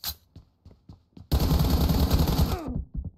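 Gunfire in BGMI, the battle royale mobile game, erupts as a dense, loud burst of rapid automatic shots lasting over a second, after a few scattered quieter shots and taps, then trails off into softer clicks.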